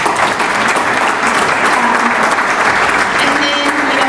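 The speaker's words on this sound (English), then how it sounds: "let's give him a quick round of applause." An audience at a sports hall of fame induction ceremony claps steadily and warmly, a dense indoor round of applause that holds evenly for several seconds.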